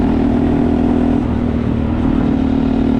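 A Honda 125 Monkey motorcycle engine drones steadily while the bike is ridden, a close, continuous mid-pitched hum with slight wavering and no pauses.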